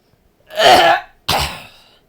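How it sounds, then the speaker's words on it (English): Two harsh, wet coughs in quick succession, close and loud, with no speech. "The cough is more concentrated and differently goopy."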